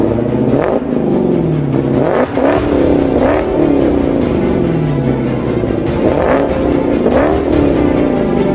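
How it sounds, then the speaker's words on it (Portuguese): A powerful Dodge car engine revs hard and loud, rising in repeated surges and dropping between them, close up and without talk. "E o que mais me chama a atenção é o poderoso som do motor."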